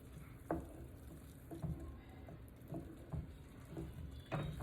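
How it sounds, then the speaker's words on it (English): A spoon works through thick roux gravy for crawfish etouffee, giving soft scraping strokes every second or so over a faint simmering sizzle, quiet and close with no talking. "I'm just going to stir this up"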